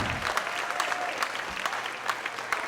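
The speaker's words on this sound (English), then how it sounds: "You all clap it up, please, for our co-hosts." Fairly quiet, continuous crowd clapping for the co-hosts at the RJB Moving Up 2024 celebration, with a few sharper individual claps standing out over about three seconds.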